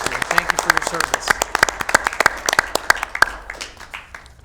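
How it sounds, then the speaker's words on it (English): Attendees at a regional solid waste authority board meeting clap for a departing staff member, a modest group of distinct, fairly close hand claps that thin out and fade within a few seconds. "Let's give a big round of applause to Mr. Etienne for all his work here."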